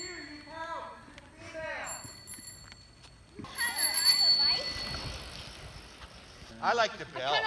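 A bicycle bell rings in quick bursts, first a few brief dings, then a busier jingle over rolling noise, with people talking around it.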